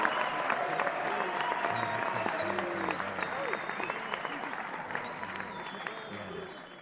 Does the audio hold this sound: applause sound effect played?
yes